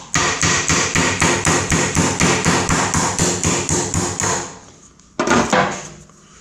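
Rapid, steady metallic hammering taps a part out of a Farmall H tractor steering bolster, about four strikes per second, loud and close, then a pause and a final short burst of blows.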